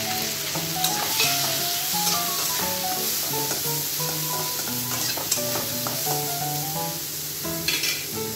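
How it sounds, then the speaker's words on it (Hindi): Boiled dal goes into a pan of frying chillies, bringing a loud close sizzle with repeated stirring scrapes and clattery, squeaky utensil sounds throughout. "तो अब ये दाल उबाला हुआ जो रखा था मैंने इसे डालते हैं"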